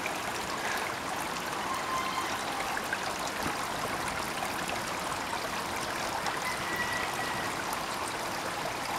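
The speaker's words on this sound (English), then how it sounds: "Water's draining all the roots there." Water draining out of the bottoms of hydroponic lettuce growing tubes and recirculating back to large tanks, a steady close trickling and gurgling wash that runs evenly throughout with no talk.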